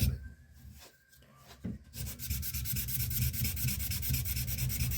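Pine sanding block worked over a firearm's surface, its corner focused on a pit, giving a steady close rasping rub that starts faint and broken, then runs loud and continuous with a fast back-and-forth rhythm.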